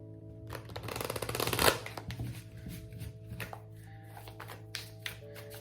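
Cards being shuffled by hand in a quiet room, a riffle building to a loud burst, then softer scattered handling and taps of the deck.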